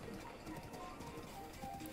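Horse hooves clop in rapid irregular steps in Zelda Breath of the Wild, faint and brief over soft background game ambience.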